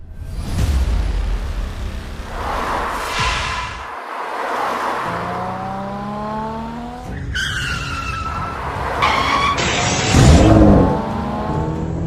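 A car drives hard with engine revving and repeated tire squeals and skids, loud and close, the pitch of the engine rising and falling through several sliding turns, without voices.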